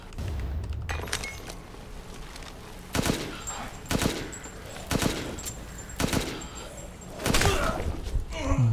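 Gunfire in the survival horror game Resident Evil Village on maximum difficulty: sharp, loud shots come singly and in short bursts roughly every second, with a low thud at the start and faint game ambience between.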